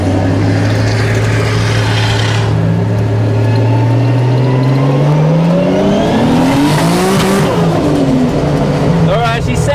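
A BMW E90 335i with the N54 engine revs hard at a roll racing event, its loud engine note climbing steadily through the run with rising pitch, close and dominant throughout.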